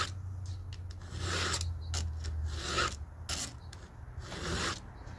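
A 7/32 round file rasps across the cutters of a small saw chain clamped in a saw vise, making several close, scratchy strokes in a steady back-and-forth rhythm.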